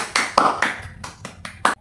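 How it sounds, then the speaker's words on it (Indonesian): Schoolchildren in a classroom give a short burst of patterned clapping, about seven crisp claps in quick rhythm, close and fairly loud. "beri tepuk tangan semuanya"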